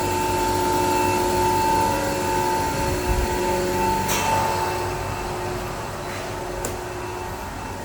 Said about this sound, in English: this is a 2-ton per day cubic machine they added